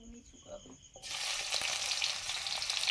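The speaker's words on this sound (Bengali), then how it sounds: "সর্ষে তেল দিয়েছি, গোটা জিরে" Whole cumin seeds hit hot mustard oil for a ghugni tempering, a sudden loud hissing sizzle that bursts in after a second of quiet kitchen sounds and keeps crackling steadily close by.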